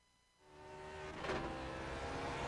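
Engine of a Lotus 49 race car in iRacing at Imola climbs from near silence into a steady, fairly quiet drone that rises in pitch and holds, alone without talk.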